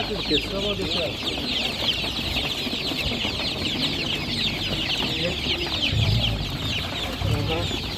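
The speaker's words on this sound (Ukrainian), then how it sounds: "Це вже маленькі курчатка є." A crowd of small chicks chirps continuously at an animal market in Nadvirna, bright high peeping filling the air, with occasional clucks and faint wing flutters and some background voices.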